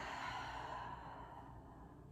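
A single slow, soft exhale during a yoga session, a breathy sigh that trails off over about two seconds, close and quiet with no talking.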